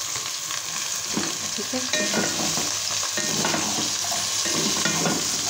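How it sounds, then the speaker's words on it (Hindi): Sliced okra (bhindi) fries with golden onions in a pan for dhaba-style masala bhindi, a loud constant sizzle with the clatter of a spatula scraping and stirring, and a brief spoken word near the start. "भिंडी को हम अच्छे से जो है वो प्याज के साथ करेंगे फ्राई"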